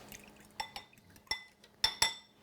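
A seasoned batter of pepper, salt, Lawry's and Cajun seasoning being mixed in a bowl, heard as a few scattered clinks and scrapes of a utensil against the dish, close and fairly quiet, with no talking.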